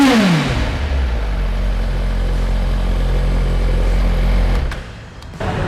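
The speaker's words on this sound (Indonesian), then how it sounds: "Kita coba gas nih" Close, loud engine of a Suzuki GSX-R1000R four-cylinder motorcycle on its stock exhaust, revved with a quick rising then falling sweep, then a steady droning rev held for several seconds before the throttle drops off and picks up again.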